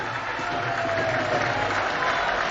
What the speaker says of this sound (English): Crowd enjoy that. Up they get.